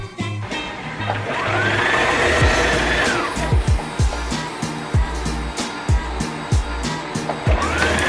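A sewing machine runs in a zigzag stitch, attaching stretched elastic to fabric cut from a polo shirt. Close, whirring motor bursts alternate with short pauses and clicks, with no speech.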